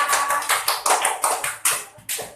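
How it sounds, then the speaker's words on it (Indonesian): A primary school class claps hands together in a rhythmic pattern, about ten sharp, close group claps in a steady beat with brief gaps between them. "Tepuk tangan buat kita semua."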